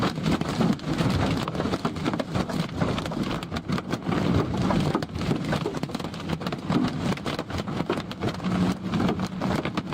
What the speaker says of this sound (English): See if they're getting any hail. Oh yeah, lots of hail.